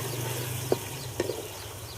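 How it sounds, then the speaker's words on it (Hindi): Lemon-marinated chicken for village-style chicken dum biryani fries in a pot, a low steady sizzle broken by a few sharp stirring scrapes, close by and with no one speaking. "अब मैरिनेट किया हुआ चिकन शामिल कर देंगे और इसमें लेमन का जूस भी शामिल करना है।"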